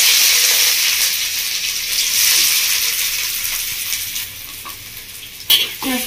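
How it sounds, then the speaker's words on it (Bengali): Dried chilli and chopped onion hit hot mustard oil with a loud, bright sizzle that slowly settles, soft stirring scrapes throughout and a sharp utensil clatter near the end. "তেলের মধ্যে দেবো একটা শুকনো লঙ্কা, আর দিয়ে দিচ্ছি কেটে রাখা কুচনো পেঁয়াজ"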